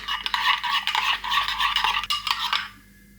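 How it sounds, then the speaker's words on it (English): A utensil stirs Greek chicken marinade in a bowl, giving close, rhythmic scraping and clinking for about two and a half seconds, then stopping to near silence. "give it all a lovely stir until you have a delicious Greek marinade"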